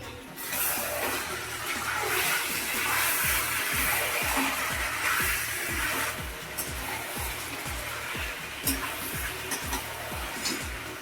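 Meat frying in a pan in a home kitchen, a steady broadband sizzle and hiss that holds for the whole stretch, with a faint low rhythmic pulsing underneath and no talking.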